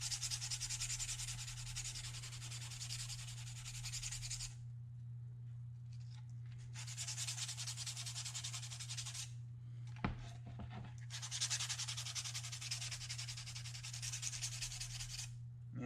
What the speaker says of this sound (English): It's still gunking up the sandpaper pretty quick.